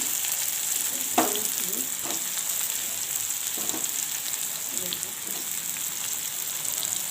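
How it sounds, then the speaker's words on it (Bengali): Potatoes and papaya frying in a pan give a steady, soft sizzle throughout, with a few sharper clicks and scrapes from stirring and a faint voice in the background. "আলুটাকে আমি ভালোভাবে ভেজে নেবেন"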